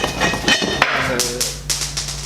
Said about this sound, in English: that nut fell